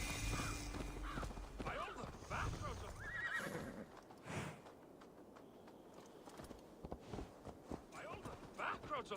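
A horse whinnies and hooves clip-clop in an Assassin's Creed Valhalla game soundscape, fairly faint, with voices talking around it.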